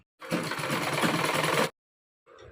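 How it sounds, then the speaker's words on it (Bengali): Sewing machine running a continuous burst of stitching on palazzo pant fabric, loud and close for over a second, then stopping abruptly before a brief softer restart. "দেখো আমি কিভাবে সেলাই করে নিচ্ছি"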